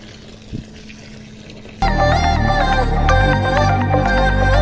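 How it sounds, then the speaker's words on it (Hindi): Water gushes from a hose pipe onto a banana plant, starting abruptly after a quiet outdoor pause and then running as a loud, steady splashing stream to the end. "उसको थोड़ा बहुत पानी डाल देते हैं।"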